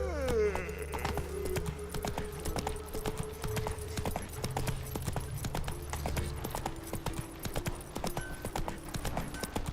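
Hooves of the horse Roach galloping in The Witcher 3, a fast, even clip-clop rhythm close up, with faint ambient game sounds beneath.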